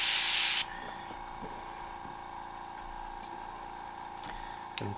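An airbrush spraying paint while shading a grim reaper design gives a short loud hiss at the start, then a quiet, steady airy hum with faint rubbing and ticking sounds.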